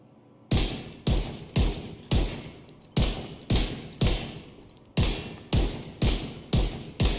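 Sacrum rifle shots in Division 2 fire in a paced rhythm, about a dozen loud, close single reports spaced roughly half a second apart, each with a sharp crack and a short decaying tail, and no talk over them.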